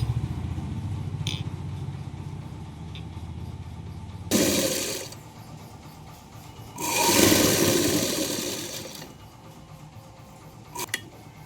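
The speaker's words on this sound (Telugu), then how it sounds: "ఇప్పుడైతే పైన ఒక కుట్టు వేయాలి" A sewing machine stitches a lined blouse in two short, loud runs of a few seconds each, separated by quiet handling noise, with no speech.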